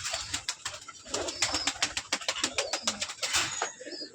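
Pigeons kept in a loft coo in soft, repeated throaty calls close by, alongside a rapid series of sharp clicking and fluttering sounds.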